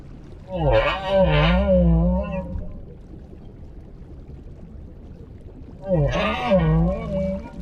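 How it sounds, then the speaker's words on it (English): Humpback whale song, two loud wavering, moaning calls, one at the start and another after a few seconds of quiet, with no voices present. "The humpback song is a powerful form of communication."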